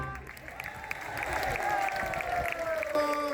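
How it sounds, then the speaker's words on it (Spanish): Audience clapping at a Grupo Serenada cultural performance swells into steady applause, with a voice and sustained tones carrying over it. "Un tremendo aplauso"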